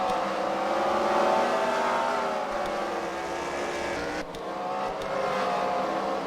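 Race cars roar around a track at a fight-night racing event, a loud continuous engine drone with shifting pitch as cars drive and chase, with no talking.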